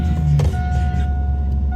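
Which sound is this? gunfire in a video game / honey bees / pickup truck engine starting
pickup truck engine starting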